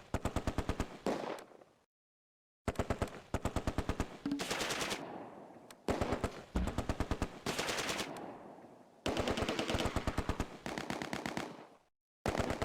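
A Vickers machine gun in the Close Combat wartime game fires in repeated rapid bursts, each a few seconds long, separated by short pauses, loud and close with no talk.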